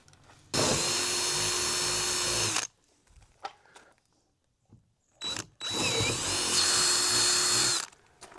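A power drill bores through the centers of Forstner bit holes in a platform panel for a Jeep seat-delete build, with two loud sustained runs of about two seconds each separated by a few quiet clicks and handling noises.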